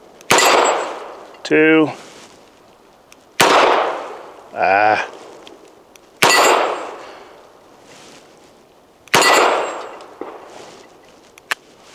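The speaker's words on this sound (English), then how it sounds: "we're going to be shooting for the little circular target to the right of the steel silhouette right there" Four sharp, loud shots from a Charter Arms Undercover .38 Special revolver on an outdoor range, spaced about three seconds apart, each followed by a metallic ring as a steel target is hit, with a word spoken between shots.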